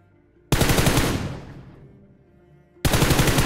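Automatic weapon fire in a battle royale video game: a loud, close burst of rapid shots that fades into a decaying tail, then a second sudden burst starts near the end.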